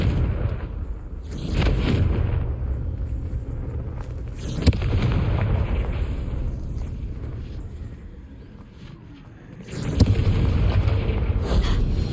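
Confringo spell explosions in the video game Hogwarts Legacy, loud booming blasts with long rumbling tails, three sharp bursts spaced across the stretch, no talking.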